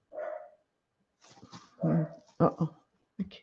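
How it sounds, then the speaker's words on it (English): Dogs bark at home in several separate bursts, a short yelp first and then a run of louder, closer barks with brief pauses between them. "dogs are barking."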